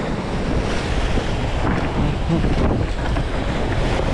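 Rough sea surging onto a pebble shore during a short-lived storm swell, a continuous loud roar of breaking waves mixed with wind buffeting the microphone, with no speech.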